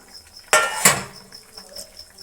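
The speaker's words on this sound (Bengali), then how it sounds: "এর মধ্যে আমি এখন সবজিগুলো দিয়ে দেবো, যেগুলো ভেজে রেখেছি।" Fried vegetables, including bori lentil dumplings, aubergine and radish, tipped into a pot of boiled potatoes for a curry: two sharp clattering clinks close by, then quiet bubbling and a faint steady hiss.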